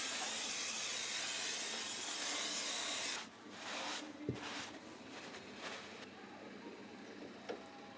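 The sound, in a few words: Würth Brake Cleaner being sprayed on braking system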